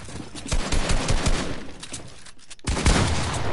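Rapid bursts of gunfire from a Fortnite 2v2 box fight crackle in dense clusters, with a brief silent gap before another loud volley of shots.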